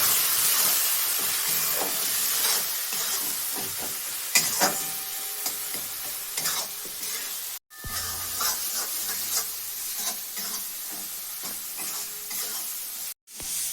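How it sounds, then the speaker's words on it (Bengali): Mutton fat and jackfruit curry with cumin paste and salt sizzles and fries loudly in a pan for a long stretch. A spoon stirs it in scraping strokes, and no one speaks. "এবার কষে নিচ্ছি।"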